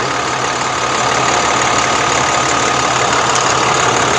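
The Hyundai diesel engine of a 2012 Hyundai Green City 28-seat bus idles close by with a loud, steady rattling drone that holds unchanged throughout.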